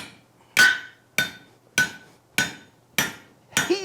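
A hammer strikes a half-inch drift being driven through hot steel, six loud, evenly spaced blows ringing out close by, each one decaying quickly. The final strike carries a brief rising metallic ring.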